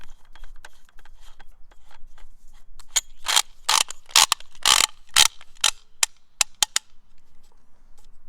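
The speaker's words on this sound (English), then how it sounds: "this is a special purpose suppressor that will fit right on it" A special purpose suppressor is screwed onto the 3/4 by 10 threads of an unloaded Cobra M911 pistol, producing quiet ticking at first, then a run of sharp, loud metallic ratcheting clicks close up that taper off.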